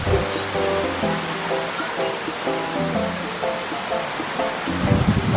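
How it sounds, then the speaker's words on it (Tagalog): Steady rain hisses down close by, a constant wash of noise with a faint tonal hum running underneath. "Sarap maligo ng ulan, aba."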